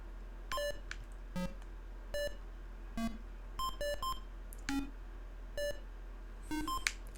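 Atari 2600 Timed Breakout ball bouncing off bricks and paddle, a run of short, sharp electronic beeps at varying pitches, spaced irregularly about every half second, clean and alone over a steady low hum.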